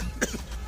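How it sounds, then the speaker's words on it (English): A single short cough from an older woman passenger on a bus, brief and fairly close over a low background rumble. "this kind cough na serious matter"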